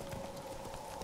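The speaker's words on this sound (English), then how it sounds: "A horse that's refusing to gallop." A horse's hooves clip-clop in The Witcher 3 video game, a quick, even trot that is faint and steady throughout, with no talking over it.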